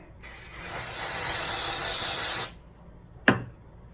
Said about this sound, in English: I'm going to blindly just brush out that area, and then I'm gonna dry shampoo.